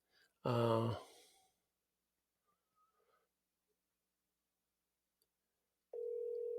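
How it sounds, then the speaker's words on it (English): A telephone call is placed: a voiced sigh-like sound, then near silence with faint clicks and blips, and finally a steady electronic dial tone that begins near the end. "Let's see if we can get Steve Ram on the phone"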